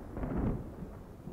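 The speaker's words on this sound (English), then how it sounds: "I'm hearing some thunder." Low, rolling rumble of distant thunder from an approaching storm at an off-grid cabin campsite, a brief muffled boom heard alone.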